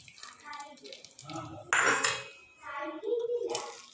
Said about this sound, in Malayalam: നമുക്കിനി ഇതിനകത്തേക്ക് ഒരു താളിപ്പും കൂടി ഒഴിക്കാം